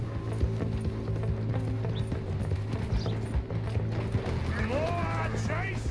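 Video game horse gallops with rhythmic clip-clop hoofbeats, mid-distance, mixed with game mechanism sounds and a short whinny-like squeal near the end.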